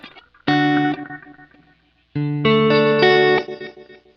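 The synth pulsar effect on a Kurzweil KSP8 effects processor, with two bold processed tones: a short swelling burst, a pause, then a longer shimmering, distorted sustained passage, loud and close.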